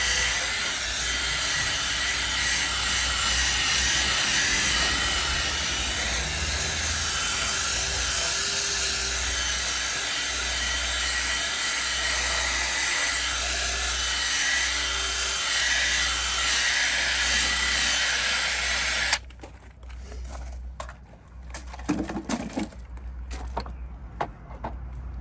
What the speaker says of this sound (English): I'm then going to use my white drill brush head just to agitate this in.